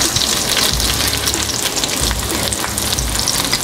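Chopped onion sizzling in two or three tablespoons of olive oil in a pot over high heat, a loud continuous crackling fry with stirring scrapes.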